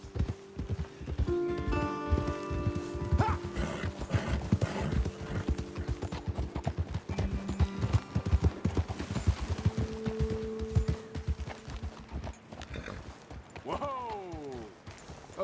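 Horse hooves clip-clop at a steady riding pace through a Red Dead Redemption 2 scene, close and rhythmic throughout, with a voice speaking over them and a short whinny near the end.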